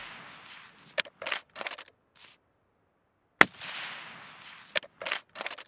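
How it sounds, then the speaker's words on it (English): Sniper rifle fire in the video game Escape from Tarkov, aimed at a guard about 200 metres away: loud, sharp cracks with echoing tails, some in quick clusters, separated by a near-silent gap. "we're going to go and see if we can headshot this guard here"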